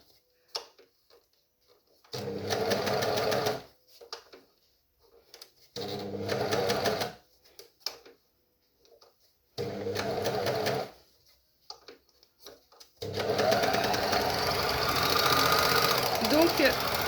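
A domestic sewing machine stitching a curve runs in three short whirring bursts with pauses for turning the fabric, then in a longer steady run, close and loud, with soft handling noises between.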